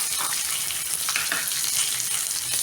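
Shallots and red chilies dropped into hot oil after mustard seeds have popped, sizzling and spitting steadily and loudly throughout with faint stirring and no voices.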